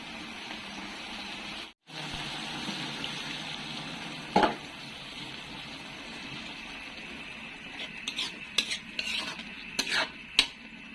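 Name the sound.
stir-frying eggplant with soy sauce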